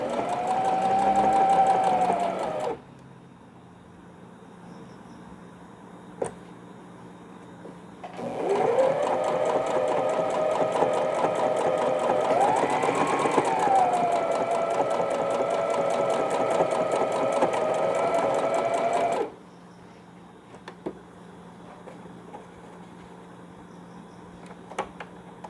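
A sewing machine runs in two sustained bursts of close stitching on folded elastic for a baby romper, with quiet pauses between runs and no talking.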